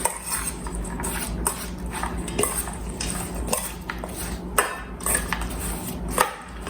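An avocado and apple salad is tossed with vinaigrette in a bowl, with repeated clinks and scrapes of a utensil against the dish in an uneven stirring rhythm, close and moderately loud, with no talking.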